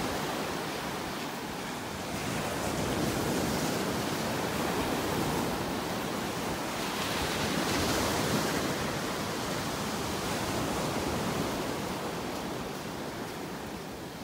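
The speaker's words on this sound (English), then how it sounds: "They're not going to come up close to shore with these little waves here this morning." Small waves breaking gently on a North Naples, Florida beach in the morning, a steady close wash of surf swelling and easing in soft repeated surges, with no voices.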